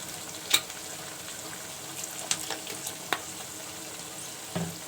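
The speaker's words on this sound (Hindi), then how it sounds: "और 1 टेबल स्पून ही सोया सॉस डालूँगी।" Soy sauce and vinegar hitting a pan of frying potato rice make a soft, steady sizzle, broken by a few sharp clicks and light utensil taps.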